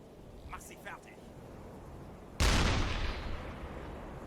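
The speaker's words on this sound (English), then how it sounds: "Skipper's going to strafe that one with the machine gun. They are shooting at us." Loud burst of gunfire in the submarine game UBOAT as a deck machine gun strafes attacking aircraft, a sudden heavy onset at mid-clip that rumbles and decays, following brief faint sounds.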